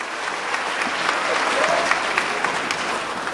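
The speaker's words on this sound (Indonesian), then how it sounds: "kasih tepuk tangan yang meriah" Audience applause after a host calls for a big round of hands at an Indonesian seminar, a steady dense clatter of many clapping hands held at an even level for a few seconds, with no voice clearly over it.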